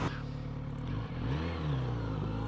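A 2020 Kawasaki Z900RS engine revs while riding, a loud steady drone that dips briefly and then climbs in pitch through a rising rev, close and without talk.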